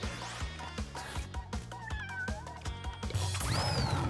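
A cat meows repeatedly in a quick, insistent series of short, fairly close calls, rising into a drawn-out caterwaul near the end, over a rhythmic thumping beat.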